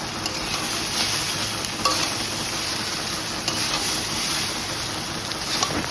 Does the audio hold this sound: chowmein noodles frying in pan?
yes